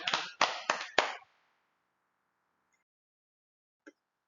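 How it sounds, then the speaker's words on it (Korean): Church congregation claps briefly during a Pentecost Sunday worship service: several quick bursts of applause close together, then silence with a faint tap near the end. "하나님께 영광의 박수"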